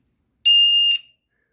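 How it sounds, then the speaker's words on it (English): A small siren wired into an infrared beam alarm circuit gives one short, loud, steady high-pitched beep of about half a second, alone in silence, then cuts off quickly. "the siren would beep,"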